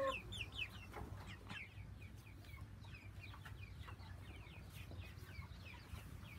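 Several farm chickens cluck and chatter nearby in quick, scattered bursts over a low background hum.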